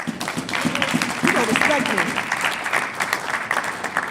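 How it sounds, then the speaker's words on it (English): An audience at a community event applauds loudly, with dense, sustained clapping from a crowd that carries steadily throughout. "Applause for that."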